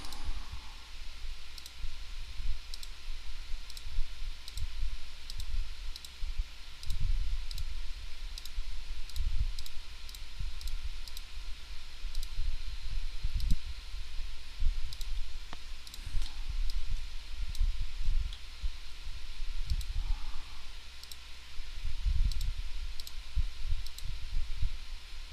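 Rapid computer mouse clicks while selecting objects in a game level editor, scattered in quick bursts across the span over a low steady room hum, with no talking.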